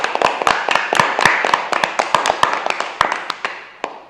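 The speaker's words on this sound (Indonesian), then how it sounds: "Tepuk tangan dulu." Children in an online fourth-grade class clapping hands, a run of sharp, fairly loud claps at an uneven rhythm that slows and fades toward the end.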